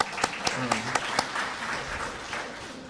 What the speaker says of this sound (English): So a little round of applause for Robbie in absence.